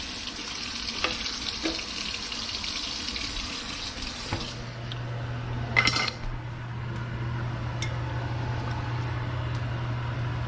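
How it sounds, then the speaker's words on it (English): A spatula scrapes and clinks against a wok under a running tap, water hissing steadily, then the flow cuts and a low hum remains with a few sharp metallic taps. "Let me get my spatula a little clean again"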